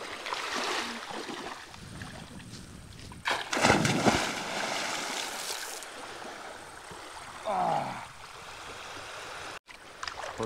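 A person dives into 22.9°C Black Sea water at Blagoveshchenskaya beach near Anapa at sunset, with sloshing and a burst of splashing near the middle, a later smaller splash, and soft water movement between.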